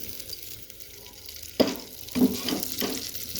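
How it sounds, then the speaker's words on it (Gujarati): Butter melts in a pan with roasted peanuts, giving a soft sizzle with a few brief bursts of frying crackle over a quiet kitchen background. "આપણે હવે આમાં બટર એડ કરી દઈશું. બટરને થોડું મેલ્ટ થવા દઈશું."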